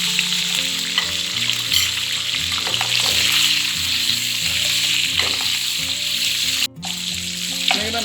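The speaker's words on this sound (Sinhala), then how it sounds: "මේක මේ විදිහට විනාඩියක් විතර පොඩ්ඩක් fry කරගන්න ඕනේ." Green and red chilies, salt, chili powder and tomatoes for Sri Lankan devilled chicken sizzle steadily in a pan, with a loud continuous hiss, stirring scrapes and a brief clatter near the end.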